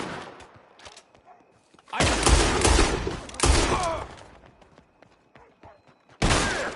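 Gunfire in a Red Dead Redemption 2 shootout: loud rapid volleys of shots in several bursts, separated by quieter stretches of scattered distant shots and thumps.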